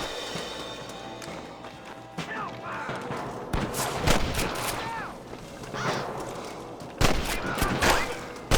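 Gunfire in Red Dead Redemption: several sharp shot bursts crack out in clusters amid an ongoing shootout, with distant echoes, game music and shouting voices underneath.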